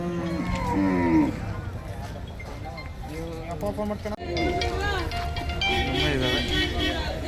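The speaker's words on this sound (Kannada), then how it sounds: "ಹೊನ್ನಾಳಿ ಕಡೆ ಜವಾರಿ ಎಮ್ಮೆಗಳು ಜಾಸ್ತಿ ಬರ್ತವೆ" Jawari buffaloes low at the busy Honnali buffalo market near Davangere, with loud drawn-out moos near and farther off, under almost continuous talk from people in the crowd.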